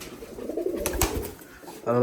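Pigeons coo nearby in a rolling, low murmur, with a few sharp clicks partway through and a louder burst of sound at the very end.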